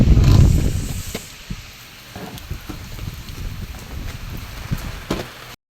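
Rain falls steadily in a village, a soft wash of patter with scattered louder drops. It starts heavier and then settles into an even, moderate hiss.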